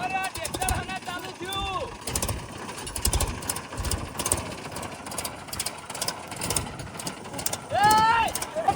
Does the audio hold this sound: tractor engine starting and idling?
yes